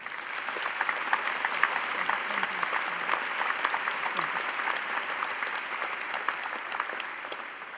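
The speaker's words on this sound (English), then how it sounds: "Please join me in a round of applause to the graduates." Sustained applause from a graduation audience for National Heart and Lung Institute graduates, with many hands clapping in a steady, even roar for several seconds and no voices above it.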